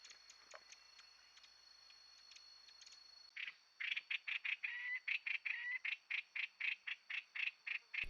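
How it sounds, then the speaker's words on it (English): A puff-throated babbler calling at Rocky Pool in Huai Khayeng Nature Park, Thailand: a steady, rhythmic series of bright repeated notes, fairly faint, following a few soft ticks. "And a very vocal puff-throated babbler just to finish off this clip from Rocky Pool."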